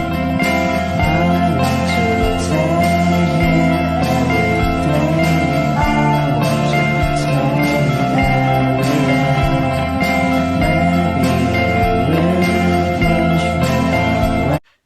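Shoegaze dream pop plays as a steady, dense wash of layered guitars and sustained tones, loud and continuous for the whole stretch before stopping abruptly at the end.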